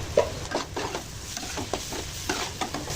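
Onions frying with turmeric, coriander and cumin powders for a chicken curry, a soft steady sizzle broken by repeated stirring scrapes in the pan, fairly quiet and close.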